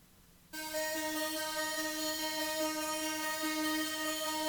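Psytrance synth part built from layered tones with a touch of white noise, run through a chorus effect, comes in after half a second of silence as a steady, sustained, shimmering harmonic tone, loud and alone without talk.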